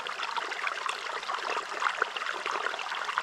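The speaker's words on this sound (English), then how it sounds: "I'm going to pan out the stuff from the culvert pipe" Water sloshes and trickles steadily in a gold pan as material dug from a culvert pipe is washed out, a continuous close splashing flow.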